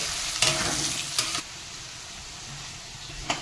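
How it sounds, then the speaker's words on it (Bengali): Potato pieces with salt and turmeric fry in a pan, a constant close sizzle broken by a few loud scraping stirs of a spatula, with no voices. "আলুটা ভেজে নিলে তরকারিটা টেস্টি লাগে"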